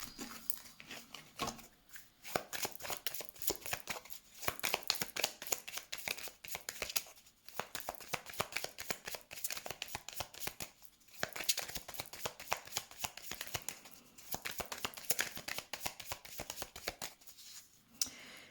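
Tarot cards are shuffled by hand in a steady run of crisp riffling and rustling bursts, close and fairly quiet, with short pauses between handfuls and no talking.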